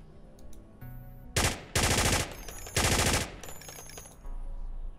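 Two long bursts of automatic gunfire ring out in the Ground Branch tactical shooter game, each loud and sustained for about half a second to a second. They follow a quieter ambient stretch and are separated by a short pause.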